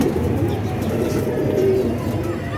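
A pigeon kept in a pigeon loft coos in soft, low, repeated calls close to the listener, over a steady background hum.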